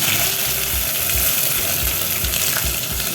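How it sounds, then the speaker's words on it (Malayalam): A teaspoon of mustard seeds fries in a tablespoon of hot coconut oil in a pan, giving a loud, steady sizzle with rapid popping crackles close up and no talking. "ചൂടായ പാനിലേക്ക് ഒരു ടേബിൾ സ്പൂൺ വെളിച്ചെണ്ണ ഒഴിച്ച് കൊടുത്ത് അതിലേക്ക് ഒരു ടീസ്പൂൺ കടുക് ഇട്ട് കൊടുത്തിട്ടുണ്ട്."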